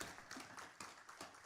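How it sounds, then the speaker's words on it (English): Faint audience applause from a small group after a talk on intuition, a brief patter of scattered claps fairly distant and low in level, with no talk over it. "Let's give her a round of applause."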